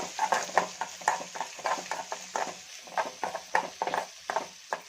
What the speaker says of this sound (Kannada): ಇವಾಗ ಮತ್ತೆ ಒಂದು ಸ್ವಲ್ಪ ಫ್ರೈ ಮಾಡ್ಕೊಳ್ಳೋಣ